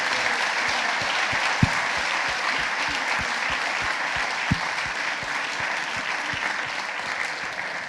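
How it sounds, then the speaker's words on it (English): A conference audience claps for the volunteers, a steady, full round of applause across the room with a couple of sharper nearby claps standing out, no voices over it. "I think the volunteers deserve a round of applause for making this possible."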